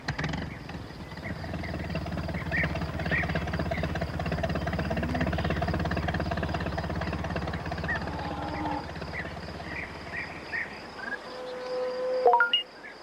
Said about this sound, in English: Peter Fogg brought the tractor to tow Pat out.